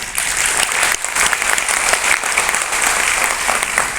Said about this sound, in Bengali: এর জন্য এসপি সাহেবকে একটা আমাদের সবার তরফ থেকে একটা জোরে হাততালি দেওয়া।